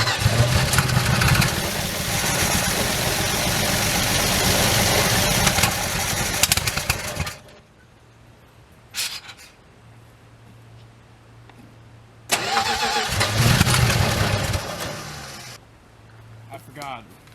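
A 62-year-old Dodge engine, revived after sitting for 20 years, runs loudly up close for several seconds and then dies. After a quiet pause with talk, it fires again and runs briefly before cutting out.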